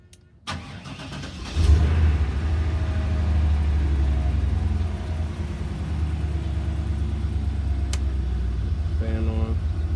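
A 1987 Chevy Caprice cranks and catches, then settles into a loud, steady rumbling idle with slight surges, close by; a voice speaks briefly over the running engine.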